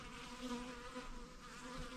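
Several honeybees drone steadily around a honey bait outdoors, a faint, continuous buzzing hum that rises and falls slightly as they move nearby, with no voices.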